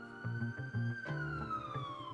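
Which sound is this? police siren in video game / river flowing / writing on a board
police siren in video game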